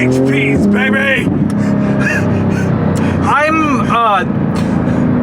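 Sharp, high-pitched rising and falling whoops from the occupant of a 2018 Porsche 911 GT2 RS, a 3.8-litre twin-turbo flat-six, ride over the loud, steady drone of its engine and road noise inside the cabin, with talk and gasps throughout.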